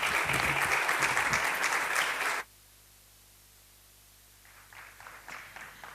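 A crowd at a book fair inauguration breaks into loud, dense applause that lasts a little over two seconds, then stops abruptly into near silence before faint murmurs and shuffling return.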